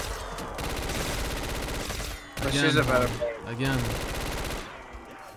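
Rapid automatic gunfire rattles through a Black Ops 3 Zombies match, steady for about two seconds, then breaking off as voices talk loudly over a second, shorter burst.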